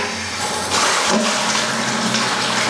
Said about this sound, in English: Cold water, hot water. Sweet, we got ourselves a functional bathtub